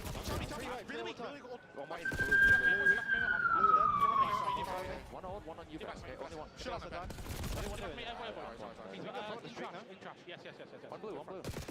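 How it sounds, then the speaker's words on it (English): A wailing emergency siren rises and sweeps down once during a Call of Duty League watch party stream, heard clearly over game audio and bursts of gunfire, with a streamer talking throughout. "You can't hear that siren?"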